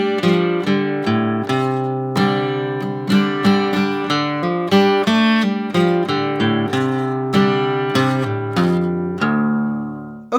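Plucked acoustic guitar picking out the instrumental break variation of a song, clear close-miked notes ringing in a steady melodic pattern for about ten seconds with no talking.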